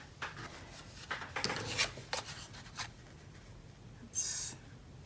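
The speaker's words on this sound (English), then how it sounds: "I'm going to trim a little bit." Craft paper being trimmed close by, heard as a few short scratchy cutting strokes spread over several seconds, with a brighter hissing rasp near the end.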